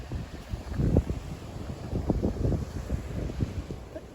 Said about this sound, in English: The wind is finally dropping, and it's still blustery, as you can see from my flags.